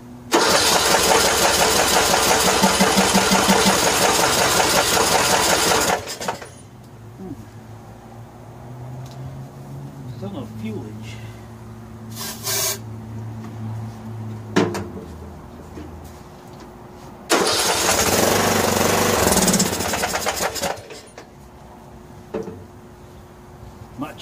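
A Troy-Bilt riding mower with a 15.5 HP Briggs and Stratton engine cranks and sputters loudly, falls to a quieter uneven stretch with clunks, then cranks hard again before dying back down.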